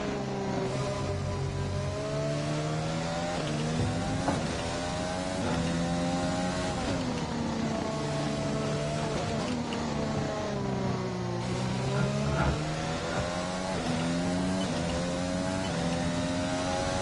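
F1 2020 race car engine heard from the cockpit, a steady high whine rising and falling in pitch as the car accelerates and shifts through gears, loud and continuous without speech.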